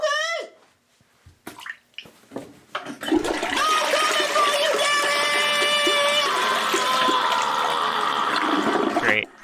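A toilet flushes after a few brief knocks and bits of faint speech, with a loud, steady rush of draining water that keeps going for several seconds and then stops abruptly.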